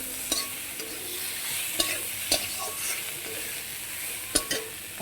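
Small fish frying in a pan while being stirred for a fish chorchori, giving a steady close sizzle broken by sharp scraping clicks of the utensil against the pan, with no voices.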